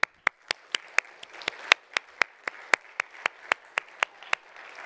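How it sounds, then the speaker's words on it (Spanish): A church congregation during a Spanish-language sermon breaks into steady applause, a regular run of sharp claps close by at about four per second that holds evenly for several seconds. "Un aplauso, Señor."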